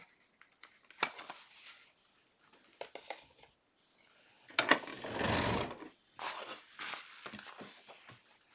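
A domestic sewing machine stitches elastic into cloth diapers in several short runs and one longer burst, close by, with handling rustles and quiet gaps between the stretches of stitching.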